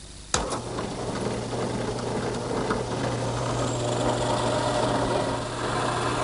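A drill press whirs steadily after a sharp start, its motor humming loud and continuous as it bores holes into wood for a rocking chair, with no talking.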